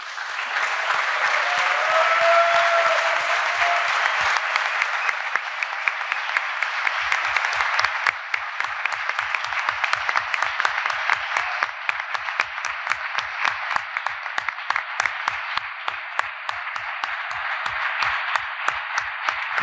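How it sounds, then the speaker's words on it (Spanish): Strong, sustained applause from a university panel audience on cannabis culture, dense clapping that fills the whole stretch without a break, with some sharper individual claps standing out toward the end. "ustedes se merecen este fuerte aplauso."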